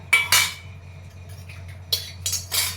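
Metal worship plates and dishes for a home shrine are handled, giving several sharp clinks and clatters in two clusters, near and fairly loud over a low steady hum.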